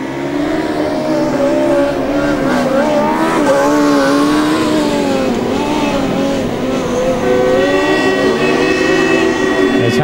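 A Formula Student race car speeds past on the track during the 2009 Formula Student Germany endurance event, its high-revving engine note rising and falling loudly as it passes, with a steady whine and further cars audible throughout.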